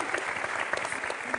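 A television studio audience breaks into applause, a busy, even patter of many hands clapping at moderate distance, with faint crowd murmur mixed in beneath it.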